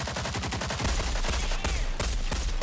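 Rapid automatic gunfire in the shooter Rogue Company, dense bursts of shots crackling loudly and continuously, with a steady rattle at first giving way to heavier overlapping fire and impacts.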